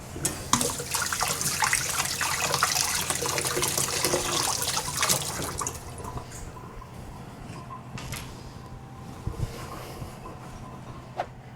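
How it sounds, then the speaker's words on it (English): Tap water runs loudly into a kitchen sink while hands are washed during sourdough coffee cake baking, a steady broadband rush for about six seconds that then drops to a faint trickle with a few small clicks and knocks. "I'm gonna wash my hands real quick."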